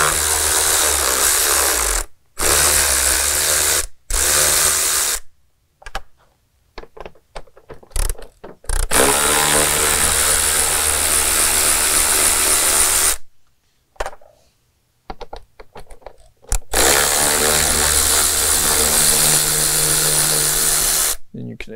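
Power driver spinning out three 5/16 screws from the intake lid during a Fleece Cheetah turbo install on a 6.7L Cummins diesel Dodge, several loud close runs of whirring broken by short gaps.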